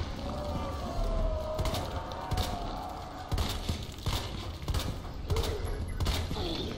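Bursts of gunfire in Resident Evil 2 Remake, sharp repeated shots in an irregular volley. Game ambience and footsteps-like thumps continue between the shots, and a voice talks faintly underneath.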